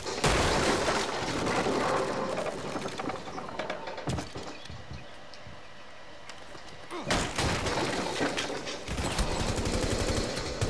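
Gunfire in the video game Rainbow Six Siege: loud bursts of rapid shots dominate the opening seconds, drop away into a quieter stretch, then return as dense, close firing near the end, with a player talking over the action.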